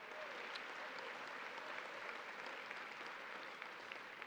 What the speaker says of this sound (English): How about a round of applause for all of them at the Aaron's table?